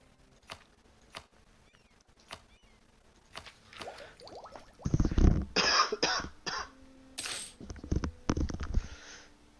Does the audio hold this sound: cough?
yes